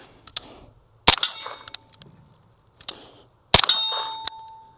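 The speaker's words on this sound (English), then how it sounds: "Let's go ahead and get into some shooting on this pistol." A suppressed SIG MPX 9mm pistol fires at a target, giving several sharp, separated reports with metallic clangs and rings from the struck target, close and loud, with no speech.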